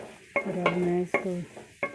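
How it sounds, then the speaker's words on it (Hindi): Onions frying in hot oil while being stirred, with a soft sizzle under a few distinct scraping, squeaking strokes of the spoon across the pan, close and fairly loud. "इसको गर्म करके फिर मैं इसमें प्याज डाल लूँगी"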